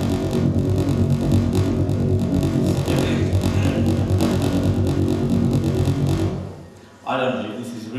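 Sonified acoustic waves from gas disks around black holes, a dense, continuous roaring rumble with a steady broadband texture that thins out near the end before a brief tonal swell.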